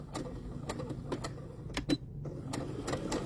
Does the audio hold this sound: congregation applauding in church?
no